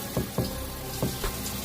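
Tap water runs to dampen hair and beard, a steady close hiss broken by a few soft splashing thumps as hands move under the stream, with no voices.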